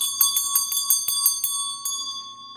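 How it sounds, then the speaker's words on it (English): A small bell rings in a ritual, struck several times in a quick, uneven series with a bright, clear ring that decays and lingers after the last strike; close and alone with no talk. "put the bell on it to remove any energy."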